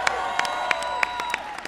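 Applause from an audience at a White House welcome for the Wounded Warrior Ride: a steady, fairly loud wash of clapping with sharper individual claps and some steady tones ringing through, with no voices on top.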